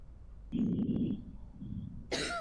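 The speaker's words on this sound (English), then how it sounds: "I do hear coughing, though." A sick patient coughs in the video game Quarantine Zone: a single rough, throaty cough burst lasting about a second, then a softer trailing cough, followed by a brief bright hiss near the end.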